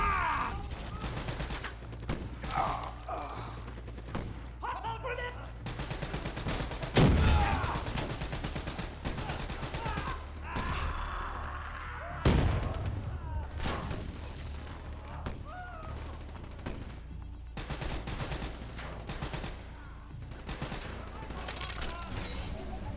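Bursts of gunfire from Call of Duty: Black Ops III game combat, with sharp shots and booms scattered across a busy mechanical battle soundscape, a couple of heavier blasts standing out, under voices.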